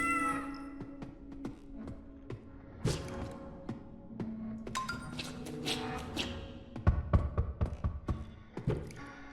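A cat in the game The Dreadthorn Therapist lets out several meows amid scattered taps and soft thuds, the calls rising and falling at moderate loudness against light background tone.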